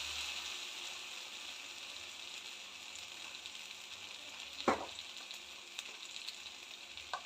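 Onions and tomatoes sauté in a pan for an egg curry with a steady, close sizzling hiss, broken by one sharper pop or clatter midway and a few faint ticks near the end.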